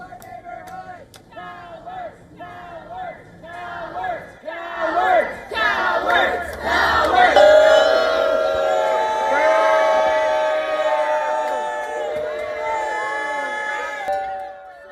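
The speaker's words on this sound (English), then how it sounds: "Protesters booed the authorities as teams of investigators walked out of a home with boxes following a search." Protesters outside a home being searched by FBI agents jeer and boo, a loud sustained crowd roar that swells and holds, with whistles and a few shouting voices in it.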